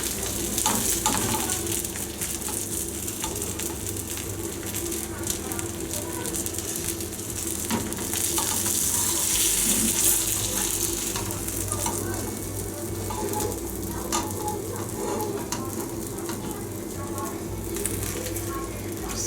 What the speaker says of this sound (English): Okay friends, the fish is fried.